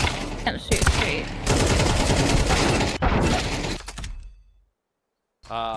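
Rapid bursts of automatic gunfire from the video game GTA fill the first four seconds loudly and densely, then fade out into a brief silence before another sound returns at the end.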